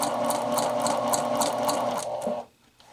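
A sewing machine stitches bias tape onto a neckline facing, running in a fast, steady mechanical whir close by before stopping abruptly near the end, with no voices.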